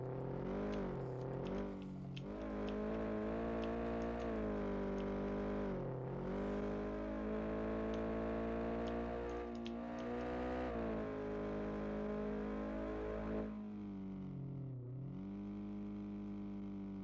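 A car engine in the video game Car for Sale Simulator 2023 drones and revs steadily, pitch rising and falling through gear changes, loud and continuous with a brief dip near the end.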